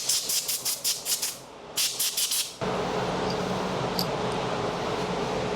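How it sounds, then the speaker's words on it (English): Compressed air blows a spray gun's air cap dry. It comes as a series of short, sharp hissing bursts, then changes to one continuous loud hiss. "Air cap, I blow dry."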